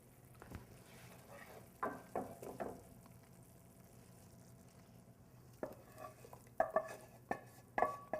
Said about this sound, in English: I'm going to dump my roux into that so I can add the rest of my vegetables